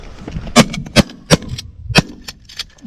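Several sharp gunshots ring out while hunting, about five loud, separate cracks spaced irregularly over a few seconds, with some low background rumble between them.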